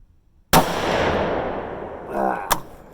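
A Ruger American Predator rifle in 6.5 Grendel, loaded with 85-grain Sierra bullets, fires one sharp, loud shot that echoes and rings out. A second short crack follows about two seconds later.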